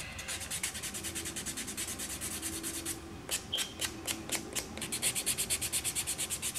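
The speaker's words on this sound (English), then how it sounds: "Buffer is smoothing it out pretty nicely." A nail buffer rubs back and forth over dip powder nails in quick, even scratchy strokes, close and steady with a brief pause midway, then resuming faster with no talking.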